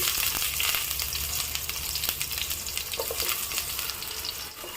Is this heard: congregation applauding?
no